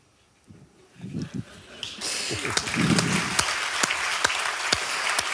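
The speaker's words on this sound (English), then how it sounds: "Will you please join me in giving a huge amount of applause for our guest, AC Grayling." Scattered claps and low murmurs build into full, steady audience applause that continues to the end.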